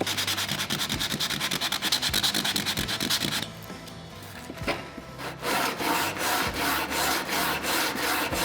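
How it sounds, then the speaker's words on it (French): A wooden electric guitar body is hand-sanded with an 80-grit sanding block in fast, rhythmic back-and-forth rasping strokes, close and clear, with a brief pause midway before the strokes resume. "Je pourrais commencer juste avec une petite cale à poncer pour enlever le plus gros"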